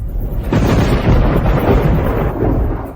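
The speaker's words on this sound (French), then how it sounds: "Pourquoi y a-t-il soudainement du tonnerre?" A deep, heavy rumble of thunder rolls on for several seconds, swelling in loudness partway through, with no voices.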